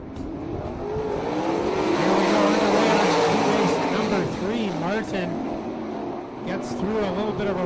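360 sprint cars roar around a dirt oval, a dense, continuous engine drone with pitch sweeps as the cars pass through the turns, under a race announcer's steady commentary.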